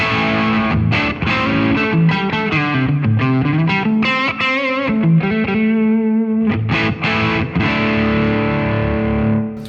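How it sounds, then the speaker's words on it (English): Electric guitar run through an overdrive pedal into a Boss Katana amp with the gain turned up, playing loud, continuous distorted chords and riffs alone for nearly ten seconds. "So all quite nice overdrive sort of tones."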